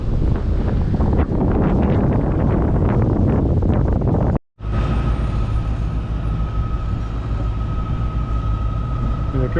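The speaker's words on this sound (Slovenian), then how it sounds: "Danes je toliko vetra, da lahko kar noter v jadrava," Strong wind roars across the microphone aboard a sailboat heading into an anchorage at Uligan in the Maldives. It is a loud, steady rush throughout, with a brief dropout near the middle.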